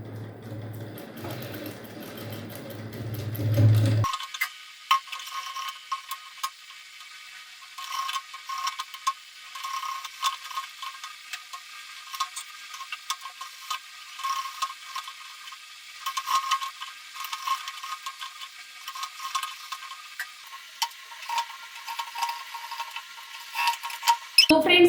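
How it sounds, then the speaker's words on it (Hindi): A sewing machine runs a close, humming stitch along a hook-and-eye strip on a readymade blouse for a few seconds, then gives way to faint, scattered mechanical ticks and clicks. "तो फ्रेंड्स देखो इस तरीके से हमने यहाँ पर सिलाई लगा दिया है।"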